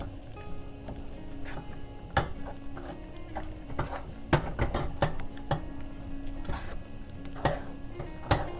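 Thick homemade play-dough mixture being stirred in a pot, heard as close, irregular scraping and knocking of a utensil against the pan, with a faint sizzle underneath and no talking.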